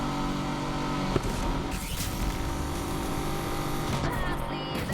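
Race car engine at full throttle with boost in Need for Speed Unbound, a loud, dense, continuous roar with brief impacts and surges, mixed with game effects and music.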